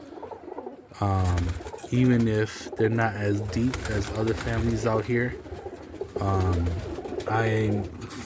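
Roller pigeons coo in a loft at feeding time after dark, giving low, throaty, repeated rolling calls close by, while someone talks over them for most of the stretch.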